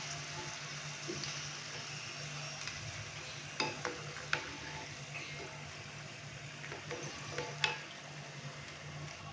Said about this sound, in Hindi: मीडियम से लो फ्लेम पे अभी हम इनको मज़ीद 5 से 6 मिनट के लिए फ्राई करेंगे